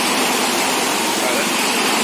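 Floodwater on a swollen river surges near a submerged bridge, giving a dense, steady roar of rushing water that stays loud and unbroken throughout.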